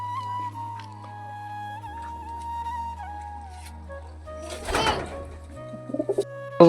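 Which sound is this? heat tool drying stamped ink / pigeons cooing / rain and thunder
pigeons cooing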